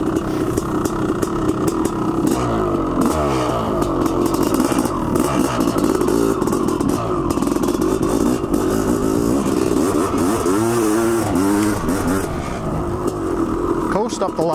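A Honda CR500 two-stroke dirt bike climbing a steep hill, its engine loud and close with rising and falling revs as the throttle works, while someone talks over it.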